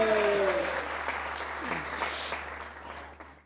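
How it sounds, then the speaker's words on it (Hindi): A studio audience at a cricket-themed comedy show claps hard and continuously, the dense applause loud at first and then gradually tapering off. "जो ऑडियंस बैठी है जो दबा के तालियां बजा रही है"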